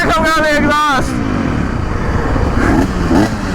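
A motorcycle engine, just restarted after being swamped in a flash flood with water in the exhaust, runs with a loud rough rumble close by while people talk excitedly over it.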